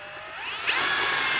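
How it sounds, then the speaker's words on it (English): A power drill whirs briefly and alone, close by, spinning up as it pre-drills a hole to mount an Andersen 400 Series storm door closer. "I'm gonna pre-drill this one last hole"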